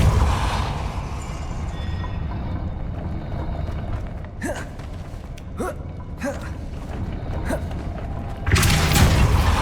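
A Depulso force spell cast repeatedly in the video game Hogwarts Legacy: several sharp whooshing bursts with rising tails over a steady ambient game bed, followed by a louder rushing swell at the end.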